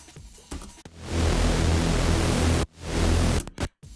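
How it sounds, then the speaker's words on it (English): Unprocessed Omnisphere synth patch for a dark UK garage track: a dense, hissy wash of noise swelling in, holding loud and steady, cutting off briefly, then returning before stuttering gaps at the end. "The sound of the Omnisphere originally was like this."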